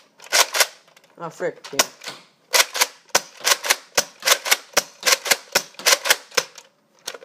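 Nerf-N-Strike Retaliator foam dart blaster fired indoors in rapid succession, a steady string of sharp plastic snaps and clacks from close by, with a short exclamation spoken partway through.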